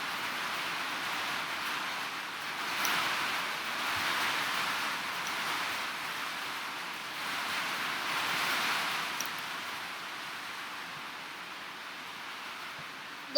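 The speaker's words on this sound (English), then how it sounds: "we're getting hit by tropical depression winds, which are 20 miles per hour right now" Tropical depression winds blowing around 20 miles per hour make a steady, broad outdoor rush with slow gusty swells. No other sounds stand out.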